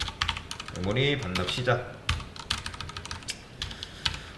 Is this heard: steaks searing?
no